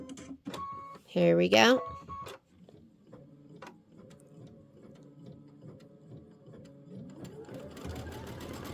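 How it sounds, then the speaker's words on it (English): An embroidery machine sews a placement stitch on a quilt block, first a brief loud burst and then a steady, quiet, rapid mechanical stitching hum, with a short spoken phrase at the start. "now it's going to do another placement stitch"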